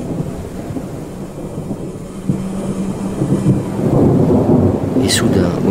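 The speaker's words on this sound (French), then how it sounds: "l'orage éclata." Thunderstorm in a radio drama: a deep thunder rumble builds and swells over steady heavy rain, with a sharp crackling strike near the end, loud and alone without voices.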